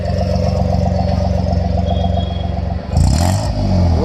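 A modified petrol-CNG Volkswagen Polo engine idles with a rumbling, throaty loud exhaust, then revs sharply near the end, loud and close.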